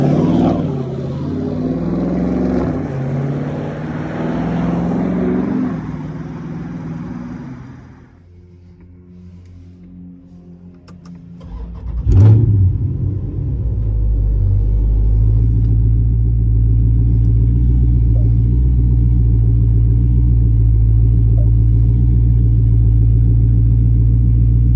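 A 2019 Dodge Charger Scat Pack with a catless downpipe and mid-muffler delete is driven. It goes from a loud, raspy run to a brief near-quiet lull, then a sharp crack and a sustained deep, heavy rumble, close and strong.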